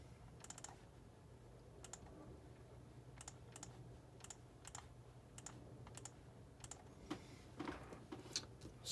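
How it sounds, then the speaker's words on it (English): Light keystrokes on a computer keyboard, quiet and spaced in small clusters, tapping alone over a faint steady hum. "let me type it in"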